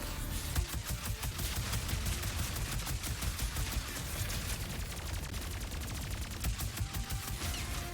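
Rapid, continuous gunfire from the video game Ratchet & Clank: Rift Apart, a dense stream of sharp repeated shots with no pauses, steady and close throughout without any talking.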